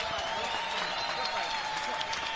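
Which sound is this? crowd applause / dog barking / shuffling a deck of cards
crowd applause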